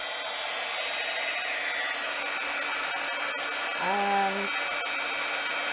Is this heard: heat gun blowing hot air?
yes